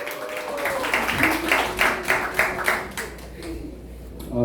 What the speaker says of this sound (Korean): 교수님 앞으로 자, 박수.